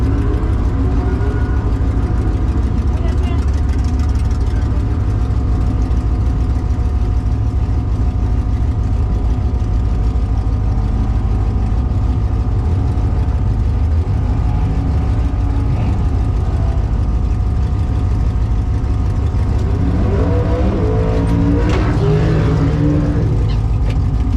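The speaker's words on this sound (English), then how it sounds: "Sick burnout on the start line, but it spun." A Ford Maverick does a burnout at a drag strip start line at LS Fest 2023, its engine droning loud and steady with a rising, warbling rev near the end as the tires spin.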